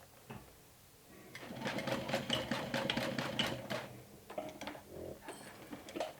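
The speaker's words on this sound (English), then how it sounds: "I'll stitch it 1/8 of an inch away from the edge" A sewing machine stitches a backpack cover about an eighth of an inch from the edge. It runs in one steady burst of rapid, rattling stitches, then gives a few shorter stop-start runs, close and clear with no talk.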